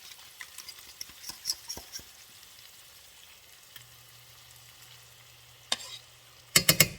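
Beef and broccoli fry with sauce in a pan, giving a steady soft sizzle with scattered pops, utensil taps and a low hum, and a few louder clatters near the end.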